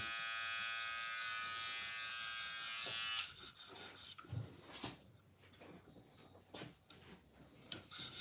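A Spyderco Native Chief knife in M4 steel has its tip straightened on a powered sharpener: a steady, close electric buzz runs for about three seconds, then stops and gives way to scattered scrapes, taps and knocks.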